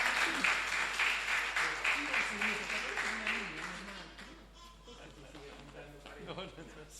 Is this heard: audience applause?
yes